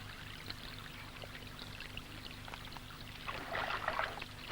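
A hooked roach, taken by stret-pegging, plunges and splashes in the water amid steady trickling, with the splashing growing stronger toward the end and a sharp close splash at the finish.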